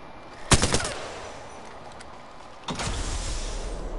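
Gunfire in the video game Apex Legends: a sharp close burst of shots, followed a couple of seconds later by a second louder stretch of firing that settles into a sustained rumble.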